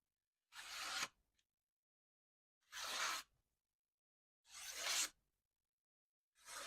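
A factory-sharp Morakniv Companion scandi knife slicing through paper, four separate crisp rasping cuts, each lasting about half a second, evenly spaced and close with silence between them.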